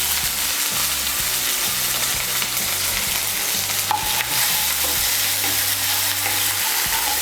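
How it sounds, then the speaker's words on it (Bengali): Ginger and green chili paste frying in oil in a pan, a continuous close, fairly loud sizzle with spatula scrapes and knocks throughout, no talking. "আদা বাটার কাঁচা লঙ্কা বাটাটাকে মিশিয়ে নেব।"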